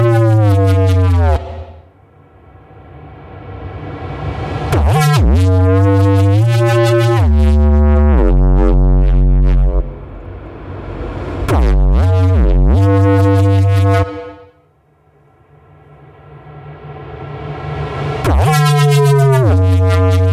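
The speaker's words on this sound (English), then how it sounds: "It's like this really twisted, weird Reese sound." Twisted Reese bass built in Ableton Operator: a thick, detuned buzzing synth bass that slides and swoops wildly in pitch, with sudden dips and rises over twenty seconds, played alone and loud.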